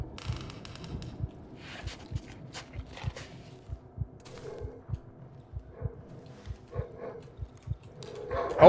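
A dog attacks in the survival horror game Darkwood, with barking and whimpering mixed among regular low thudding footfalls and scattered sharp noises that build to a louder burst at the end.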